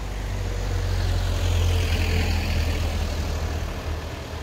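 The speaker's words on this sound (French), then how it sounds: "je vais laisser passer la voiture" A car drives past on a narrow road through the Galamus gorges, a steady low engine rumble with broadband road noise swelling to a peak mid-clip and easing off, heard alone with no talk.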